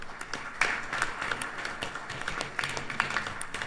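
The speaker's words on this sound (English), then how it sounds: "let's give him a round of applause" A small congregation at a Krishna temple Sunday service gives a light round of applause, with scattered claps going on unevenly for a few seconds.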